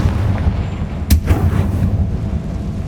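A Confringo explosive spell goes off in Hogwarts Legacy, one sharp loud blast with a short rumbling tail over a steady low background of game noise.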